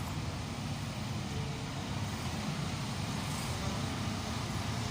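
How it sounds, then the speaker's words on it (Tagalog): Road traffic in Marawi: a steady broadband rumble of passing cars and engines, continuous and moderately loud throughout, with no talking. "Ang traffic pa dito mga"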